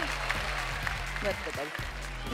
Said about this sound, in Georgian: გავაცილოთ მკუხარე აპლოდისმენტები